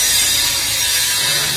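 An Electrolux LTE09 washing machine runs its spin and clutch mechanism, a loud continuous rattling, ratchet-like mechanical whir with a steady grinding texture and no talk.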